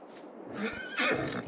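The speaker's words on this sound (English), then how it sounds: "There is a horse." A horse in a farming video game lets out a single clear whinny that rises and then wavers, loud and close, with no talking over it.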